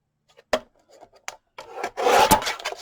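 A handheld paper cutter slicing through cardstock in a guide channel while making a folio, heard as a few faint clicks and then a near, rough scraping rasp lasting about a second.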